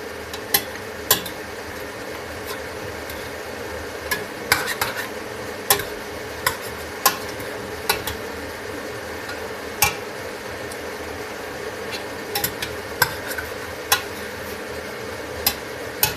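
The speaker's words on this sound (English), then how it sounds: "Now I'm frying the meat. Don't worry, just fry the meat. Keep stirring the meat till it is nicely fried." Lamb meat frying and being stirred in a pan, a soft continuous sizzle under repeated sharp clicks and scrapes of a utensil against the pan at irregular intervals.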